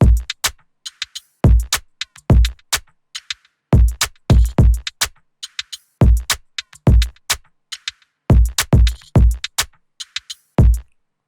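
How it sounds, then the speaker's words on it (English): A bouncy, swung Afro swing drum loop with punchy low kicks and sharp claps repeating in a steady groove, loud and dry with no voices. "it's a really popular Afro swing bounce"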